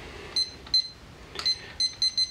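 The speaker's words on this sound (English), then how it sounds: "Get yourself a timer." A kitchen timer gives a series of short, high electronic beeps in quick irregular bursts, about six chirps over two seconds, clear and close in a quiet room while being set for French press coffee.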